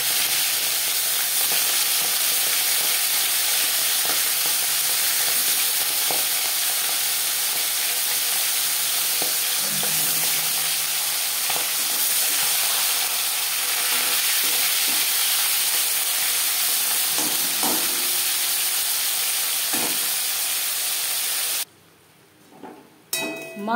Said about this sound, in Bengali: 5 চামচ রিফাইন্ড অয়েল গরম করে নিয়েছি। এবার দিয়ে দেব ম্যারিনেট করে রাখা মাছ।